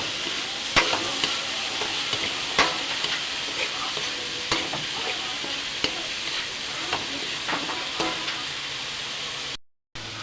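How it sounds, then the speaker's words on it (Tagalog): Kangkong and tofu sauté in oyster sauce in a pan, a steady sizzle broken by sharp scraping stirs and clacks of the utensil at irregular intervals. "Igisa po natin siya sa oyster."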